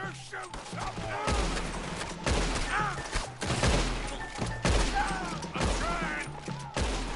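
Gunfire in a Red Dead Redemption 2 shootout around a wagon: a series of sharp cracks over a steady, loud mix of other game noise, with people shouting through it.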